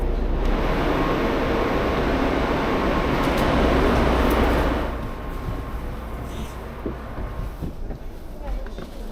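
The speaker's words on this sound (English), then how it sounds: "This is Amtrak train 370 Pure Marquette." Amtrak passenger train 370, the Pere Marquette, rumbles along with a loud, steady broadband roar that eases after a few seconds into a quieter interior hum with occasional clacks.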